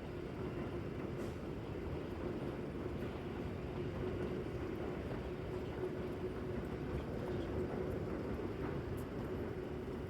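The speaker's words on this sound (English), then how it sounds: "this train leaving the platform and the other train going over the top of it" Trains at Ochanomizu Station in Tokyo, one pulling away from the platform while another crosses overhead, a steady broad rumble and rolling clatter heard from a bridge above, continuous with no voices.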